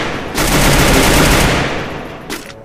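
Rapid automatic gunfire bursts loudly in a BGMI battle royale match, a dense sustained volley followed by a single short shot near the end.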